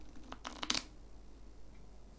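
Tarot cards being shuffled by hand, a short burst of papery riffling and slapping clustered in the first second, then quiet room tone.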